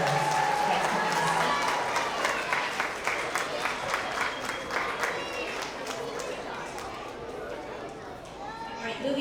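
Audience applause at an elementary school spring award assembly for kindergarten and transitional kindergarten readers, a steady wash of clapping with crowd chatter that gradually thins out.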